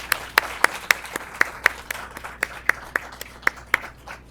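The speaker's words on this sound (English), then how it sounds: "Let's give all of our awardees an applause" A small crowd at an employee quarterly awards ceremony claps for the awardees, sparse and thin, with a few sharp, close claps standing out in a loose, steady rhythm.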